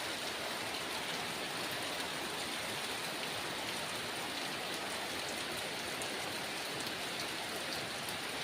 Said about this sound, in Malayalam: ശക്തിയിലുള്ളൊരു മഴ പെയ്തുകൊണ്ടിരിക്കുന്നത്.